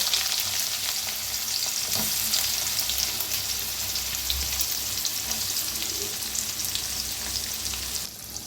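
Chopped onion dropped into hot oil already holding mustard seeds, cumin and asafoetida, giving a steady, fairly soft frying hiss with occasional faint stirring clicks; no talking.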